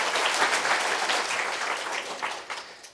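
A church congregation applauds together, a dense, even wash of clapping from many hands that holds steady and then tapers off slightly near the end.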